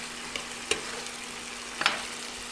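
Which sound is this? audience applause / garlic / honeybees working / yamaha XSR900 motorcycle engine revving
garlic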